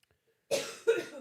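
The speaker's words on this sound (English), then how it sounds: "You guys might get to hear her hawking loogies back there" Two harsh coughs in quick succession after a moment of silence, close and fairly loud, the second a rougher throat-clearing hack.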